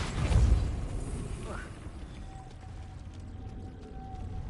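A Depulso spell is cast in the Hogwarts Legacy video game: a sudden booming burst with a rising whoosh, then a low rumbling tail and a faint hum, heard at moderate volume.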